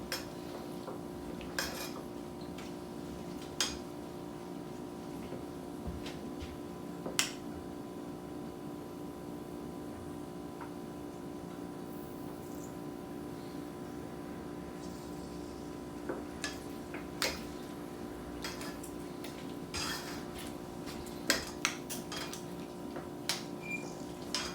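Cranberries being stirred carefully in a pot on the stove: scattered utensil clicks and taps against the pan over a steady low simmering hiss, with a few sharper knocks toward the end.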